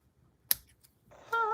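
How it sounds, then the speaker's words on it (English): A single sharp snip of scissors cutting paper for a handmade stamped card, followed by faint rustling and then a soft tonal hum near the end. "Let me cut this off."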